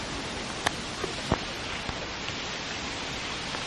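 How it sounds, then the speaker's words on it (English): Light rain falling outdoors near a garden swing makes a steady soft hiss, with a few faint taps and rustles on top and no voices. "It's raining a little bit."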